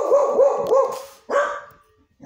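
A dog barks four times in a quick, close, loud burst, then falls silent, with a faint sound at the very end and no talking.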